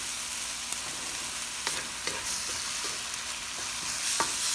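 Lechon sisig ingredients sauté in a pan with a splash of fish sauce, crackling in a loud, continuous sizzle punctuated by sharp spatula scrapes and clicks.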